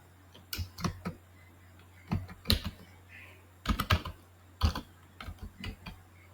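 Computer keyboard typing as a Python for loop is entered, close clattering bursts of keystrokes separated by short pauses over a faint background hum, no voices.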